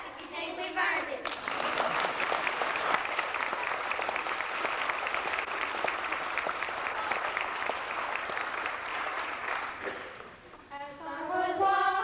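A school audience at a Thanksgiving performance breaks into sustained, full clapping that holds steady for about nine seconds, with children's voices singing just before it starts and again after it ends.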